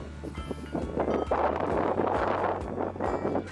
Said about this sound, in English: You can see how breezy it is right now. I mean, it's blowing pretty good.